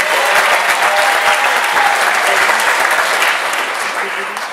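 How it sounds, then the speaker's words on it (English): Dense, steady applause from a large audience at a star-studded live show, sustained throughout and tapering slightly at the end, with faint voices mixed in. "Give yourselves a great big round of applause."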